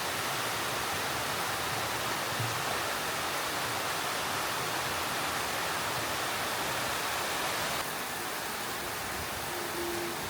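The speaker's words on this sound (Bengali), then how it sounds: "বাট বিল্ডিংয়ে আসার পরে বৃষ্টির যে প্রপার আওয়াজ সেটা পাওয়া যায়" Rain falls on a building in a steady, dense wash of hiss, moderately loud and unbroken, with no voices.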